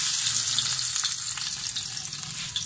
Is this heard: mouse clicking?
no